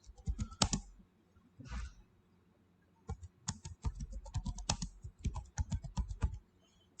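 Keyboard typing while code is written for an Azure Function HTTP trigger: quick bursts of clattering key clicks with short pauses between runs, close and fairly soft, no voices.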